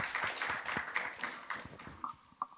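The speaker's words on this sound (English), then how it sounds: "round of applause." Applause from a panel discussion audience, made of distinct, fairly quiet claps from a small group that thin out toward the end.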